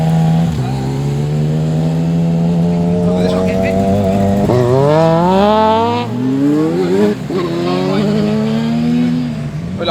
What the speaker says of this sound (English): Motorbike engine.